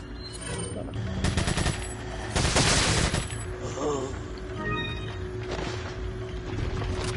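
Gunfire in the video game Resident Evil 4 comes as several loud, close bursts of rapid shots, packed in the first half and sparser after, over steady game background noise.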